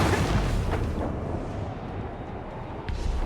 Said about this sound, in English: Cannon ready! Yes. Fire!